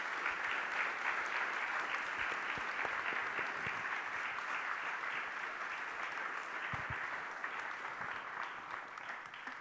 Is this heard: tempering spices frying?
no